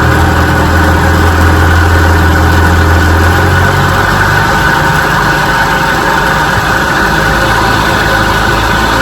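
A restored 1957 Evinrude 18 HP outboard motor runs on a lake, a loud, close, steady engine drone that holds a low idle-like hum at first before its pitch and tone shift slightly partway through, continuing uninterrupted without talk.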